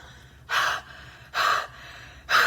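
Three broad, breathy exhalations fogging an Oliver Peoples sunglasses lens for a breath test, each about a quarter-second long and evenly spaced, close and fairly loud over a quiet room.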